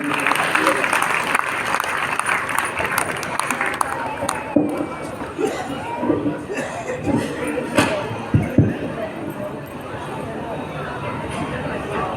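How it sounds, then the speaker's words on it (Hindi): An audience at a Jain Panchkalyanak religious ceremony applauds to honour two sisters. The loud clapping is mixed with crowd chatter and murmuring, then thins out toward the end. "एक बार दोनों बहनों को तालियां बजाकर सम्मानित करें।"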